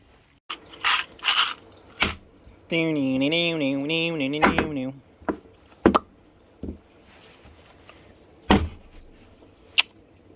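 Stainless steel screws being driven in on a DIY under-deck storage build, with a power driver whirring steadily for about two seconds between scattered sharp knocks, scrapes and handling clatter nearby.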